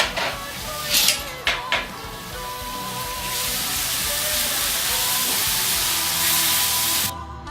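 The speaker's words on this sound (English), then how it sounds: "now the oil is hot enough. We put our onions" Onions hitting hot oil in a pan, a few sharp crackles and clatters at first, then a loud steady sizzle that holds until a sudden drop near the end.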